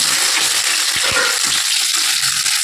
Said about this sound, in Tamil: இப்போ சின்ன வெங்காயம் போடுறேன்